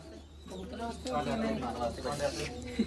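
Pigeons cooing on a rooftop in Amritsar, a soft run of low, throaty coos repeating over a steady low hum, fairly quiet and close, with faint talk in the background.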